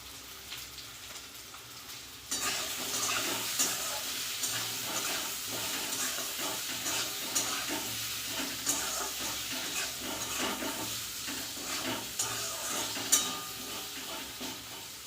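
Salt and turmeric being fried and stirred in a pan for a cauliflower dish, a steady close sizzle with scattered scraping clicks that starts abruptly and continues throughout with no speech.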